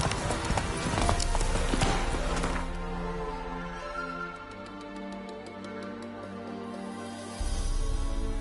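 Roach the horse galloping in The Witcher game, hooves pounding in a fast rhythmic clip-clop that is loud at first, then steadier and lighter, with a short break near the end.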